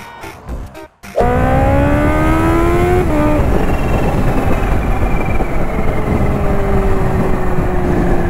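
A Kawasaki Ninja H2 superbike accelerates hard from close by, its engine screaming up through the revs with a brief dip at a gear change before climbing again, loud and continuous.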